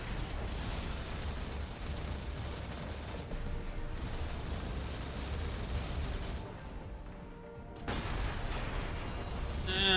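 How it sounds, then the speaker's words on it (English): Heavy weapon fire from a grenade cannon in the mech combat game Armored Core VI, a dense, continuous roar of blasts and explosions that dips briefly, then surges again loud and close. "Oh, I just love it when they use the grenade cannons like that."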